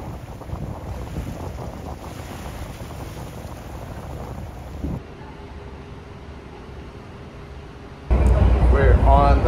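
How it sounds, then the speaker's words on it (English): A ferry carries passengers across open water, with a constant wash of engine and waves under heavy wind buffeting on the microphone, then louder close rumble toward the end while people talk nearby. "We're on the first ferry."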